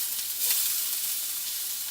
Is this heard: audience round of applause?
no